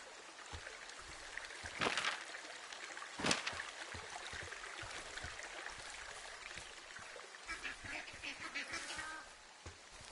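Ducks quacking in the video game Firewatch, a scattered series of faint, distant quacks over a steady outdoor stream-like wash, with no voices.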